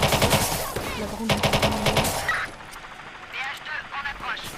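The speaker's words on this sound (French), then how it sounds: "Centrale, on entend des coups de feu." Rapid machine gun bursts rattle loudly in a video game for about two seconds, then quieter scattered game sounds follow.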